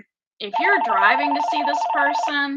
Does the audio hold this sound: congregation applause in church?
no